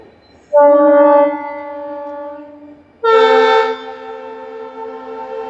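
The passing Howrah–Mumbai Duronto express sounds its horn at Santragachi station: two loud, close, sustained blasts, each with a strong opening that steadies into a long trailing tone.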